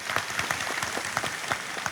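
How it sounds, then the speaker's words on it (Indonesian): An audience at an Islamic sermon gathering claps in a brief burst, individual hand claps standing out in an uneven rhythm over a close, moderately loud wash of applause. "Tepuk tangan untuk PLB."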